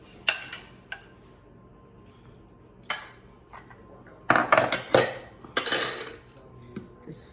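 A utensil scrapes and clinks against a mixing bowl while banana batter for chocolate chip muffins is cleared out, giving sharp scattered knocks and rattling scrapes close by, with a quieter stretch in the middle.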